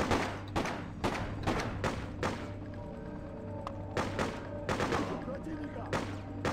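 Machine gun fire in the PC game Freedom Fighters, loud repeated bursts of rapid shots with gaps between, over a steady low in-game hum.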